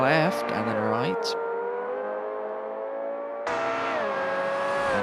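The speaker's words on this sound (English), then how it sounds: "You can hear that engine roar, scream more rather, into the heavy braking zone over the left and then right." A GT World Challenge race car at the Bathurst Grand Prix, its engine screaming at high revs with sharp downshift blips into a heavy braking zone, then the pitch rising again, heard under race commentary.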